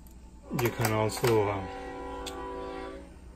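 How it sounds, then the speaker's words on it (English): A train horn blares in sustained tones after a few brief vocal sounds, then holds steady over a low rail rumble. "sorry for the train noises"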